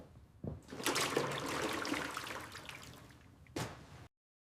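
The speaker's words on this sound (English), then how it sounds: "I mop the floor once a week." A wet mop swishes and squelches across a floor in a household chore, a burst of splashing and sloshing strokes ending with a sharp slap, close and moderately loud, with no talking.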